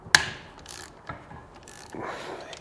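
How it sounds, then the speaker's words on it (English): A ratchet tightening transmission bolts on a Suzuki GSXR 750 motorcycle, several short bursts of rapid clicking close by, with brief pauses between strokes and no talking. "And we tighten those back up."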